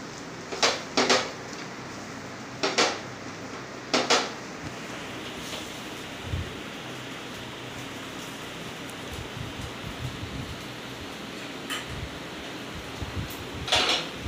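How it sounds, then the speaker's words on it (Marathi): A spatula clatters against a pan while masala dosa filling is mixed the way pav bhaji is mixed on a griddle, with several sharp metallic scrapes and clinks spaced over a quiet steady hiss. No one speaks. "जसं आपण पावभाजी ताल्यावर मिक्स करतो त्या पद्धतीने हे सगळं आपल्याला मिश्रण एकत्र करायचं आहे"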